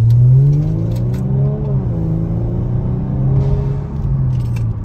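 A sports car with paddle shifters accelerates and drives off, its engine a loud, close rumbling roar whose pitch rises and shifts through gear changes before easing slightly as it pulls away.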